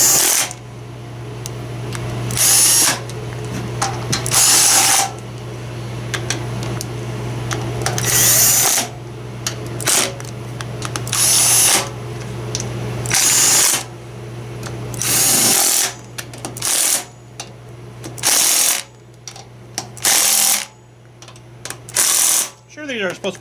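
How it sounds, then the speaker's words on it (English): A wrench torques down engine head bolts over a head gasket. Repeated bursts of sharp ratcheting clicks come up close and loud, with gaps between them, over a low steady hum. "I'm torquing them down."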